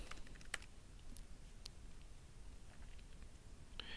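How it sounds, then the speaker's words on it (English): A username and password are typed on a computer keyboard, giving a quiet, close run of irregular key clicks with a few sharper taps and brief pauses. No one speaks. "we want to go ahead and type in our username and our password"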